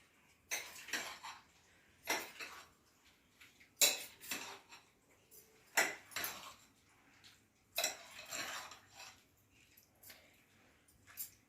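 A spoon stirs pickled lemon pickle in a container, making repeated wet clinks and scrapes against the sides in a loose rhythm, close and fairly quiet.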